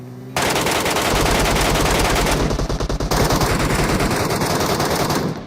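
Rapid automatic gunfire from the video game PUBG Mobile, loud and continuous bursts of shots firing nearly without pause for several seconds.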